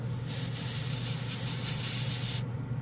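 A Badger Sotar detail airbrush gives a steady, close, airy spray hiss that runs unbroken for a few seconds and then cuts off, with no speech.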